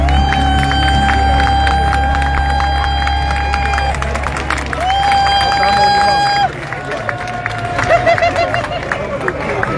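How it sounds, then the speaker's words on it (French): A crowd in Paris claps and cheers loudly and continuously for a writer while a voice speaks in French over the noise, with music-like tones ringing through. "On applaudit!"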